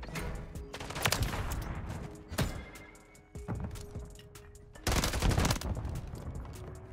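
Gunfire rings out in Call of Duty MW3 multiplayer: several sharp shots and short rapid bursts, some close and loud, others softer, spread irregularly over a rumbling game background.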